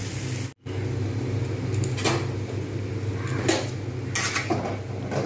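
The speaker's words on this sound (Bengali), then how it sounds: "ভালোভাবে এরকমভাবে নাড়ব যতক্ষণ পর্যন্ত সুন্দর একটা স্মেল না আসছে ডাল থেকে ততক্ষণ পর্যন্ত কিন্তু আমি এটা ভাজতে থাকবো" Red lentils are stirred and dry-fried in a pan, giving occasional scraping clinks of a utensil against metal over a steady low background hum, close and without talk.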